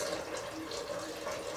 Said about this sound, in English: How the water is rushing out of the bottle in my hand